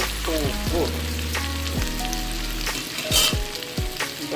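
Onion and garlic sizzle and fry in a pan, a steady crackling hiss broken by occasional scrapes and stirring, close up with no speech.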